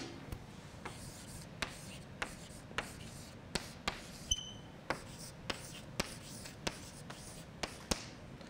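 A pen or marker writes quickly on a surface during a lecture, tapping and scratching in a steady run of short strokes roughly every half second, close and fairly quiet over a faint room hum.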